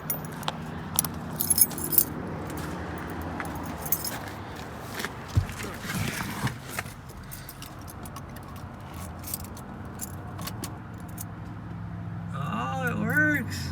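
Keys jangle and rattle close by as a newly cut key is tried in the ignition of a 1971 Camaro. The sounds come in short clinking bursts over a low background rumble, and a brief engine sound follows near the end.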